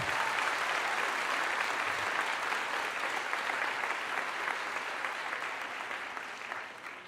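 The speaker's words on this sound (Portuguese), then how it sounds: "Se é para aplaudir, aplaude forte." A church congregation applauds during a sermon, a dense, steady wash of many hands clapping that holds for several seconds and tapers off slightly at the end.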